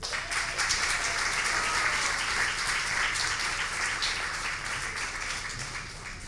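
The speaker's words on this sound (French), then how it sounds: "je vous donnerais bien de les applaudir, au fait" Audience at an anniversary evening of a francophone Ontario authors' association applauds young authors, steady moderate clapping from a hall crowd that slowly tapers off toward the end.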